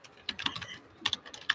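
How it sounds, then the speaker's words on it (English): Quick clicks of keys tapped on a computer keyboard, a brief flurry of faint typing in two short bursts. "whoever is typing, please stop and put yourself on mute."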